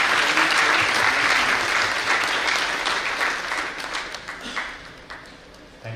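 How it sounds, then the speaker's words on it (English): An audience at a national management convention claps during an award presentation. The applause is loud and full at first, then gradually thins out and fades toward the end. "A round of applause, please."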